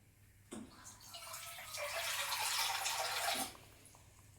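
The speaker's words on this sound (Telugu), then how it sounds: "ఇంకొంచెం వాటర్ పోసుకోవాలి." Water poured into a thick eggplant masala curry in a cooking pot, a steady splashing pour lasting about three seconds, building in loudness, then stopping, with no talk over it.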